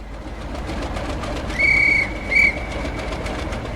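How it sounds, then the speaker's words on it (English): A Roblox railway game train rolls along with a steady rumble, then a loud whistle sounds twice, one longer blast and a short one, with no talking. "There goes the whistle."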